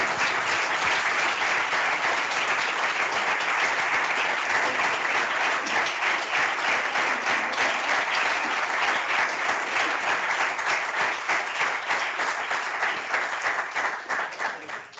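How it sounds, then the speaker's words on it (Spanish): Audience at a World Meteorological Day 2024 celebration breaking into dense, sustained applause, loud and steady for about fifteen seconds before beginning to thin out at the end. "Venga, tu aplauso, Ana."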